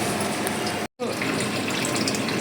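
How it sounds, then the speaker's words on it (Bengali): Water poured from a mixer jar into a pan while cooking pabda fish jhal, a steady close splashing rush broken by a very short gap. "এখন পরিমাণ মতো জল দিয়ে দেবো, মিক্সি ধোয়া কৌটাটাতে জলটা দিয়ে দিলাম।"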